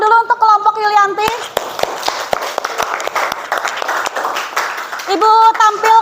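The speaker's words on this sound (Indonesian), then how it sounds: "kita beri tepuk tangan dulu untuk kelompok Yulianti" Classroom applause for a student group: a burst of clapping from the students runs through the middle seconds, with a teacher's voice heard before and after it.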